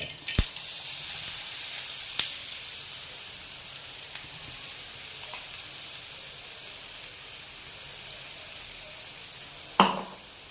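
Ground paste frying in a pan for a soya sprouts rice dish, giving a steady, close sizzling hiss throughout with a few sharp clicks and pops, the loudest near the start and end.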